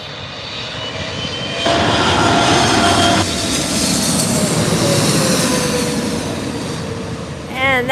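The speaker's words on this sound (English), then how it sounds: "And that's an EVA Air flight that we got, EVA Air. There it goes." An EVA Air airliner roars low and close on approach to LAX, its loud jet engine noise rising sharply, holding a sustained whine, then fading as it passes, with light background chatter at the very end.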